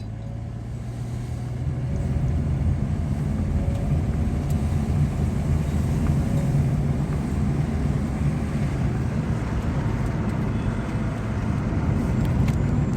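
Steady low engine and road rumble fills the cabin of a Hyundai Verna with an automatic transmission as it drives along, a continuous drone with faint wind noise.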